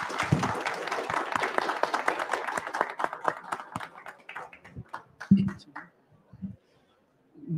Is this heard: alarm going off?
no